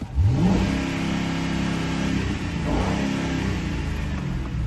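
A newly bought daily-driver car with a possible fault has its engine revved hard once at close range, climbing quickly and then falling back toward idle, followed by a second smaller blip, loud and alone.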